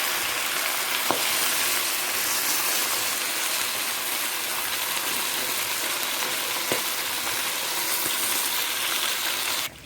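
Fish frying in a pan for Jamaican brown stew fish, a steady loud sizzle running the whole time with a few faint clicks of utensils, no voices.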